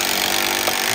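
A power driver sinks GRK structural screws into wooden stair framing, giving one brief, loud, steady whine with no break.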